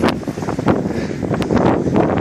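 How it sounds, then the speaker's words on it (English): Gusty wind rushes and buffets against the microphone in short bursts, loud and close, with no voices. "we didn't get all this wind gusts here"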